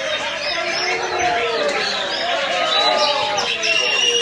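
Caged songbirds at an Indonesian bird song competition in Surabaya, many birds singing and chirping at once in dense overlapping trills and whistles, loud and close over a busy crowd babble.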